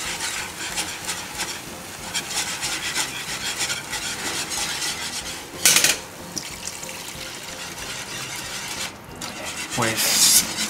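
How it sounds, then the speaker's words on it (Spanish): A spoon or whisk scrapes steadily through béchamel sauce for ham croquettes over medium heat. The stirring is constant and rasping, with two brief louder bursts partway through and no speech. "Y lo más importante es no dejar de remover."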